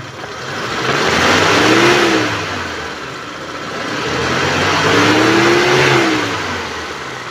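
A 2013 Mitsubishi T120SS pickup truck engine revs up twice, each rise swelling and easing back toward idle, loud and close with no talking.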